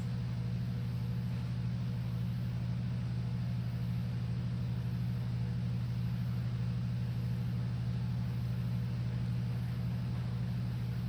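An industrial ceiling fan in a barn display spins, giving a steady low motor hum and soft airy whoosh with a faint regular pulsing, quiet and unchanging throughout.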